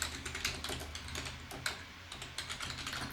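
Quiet, steady typing on a computer keyboard as a terminal command to restart the SSH service is entered, with light clustered keystrokes and no voices.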